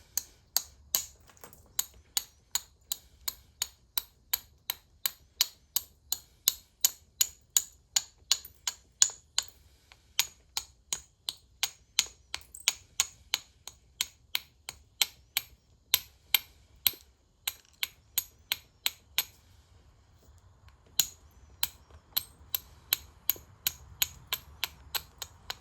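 Obsidian being flintknapped, its edge beveled and flakes struck off: a long steady run of sharp, close, clicking taps at a brisk even rhythm, with a brief pause before the strikes resume, and no talking.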